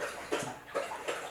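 A golden retriever named Chip laps water noisily from a bowl, with quick wet slurps at a steady rhythm, close by with no talking.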